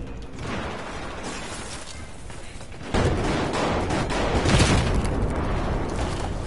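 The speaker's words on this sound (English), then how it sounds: "There's an enemy machine gunner using the location." An enemy machine gunner opens fire in a war video game: after a few seconds of mechanical rattling, a louder burst of rapid, heavy shots and booms kicks in and keeps going, close and harsh, with no talking.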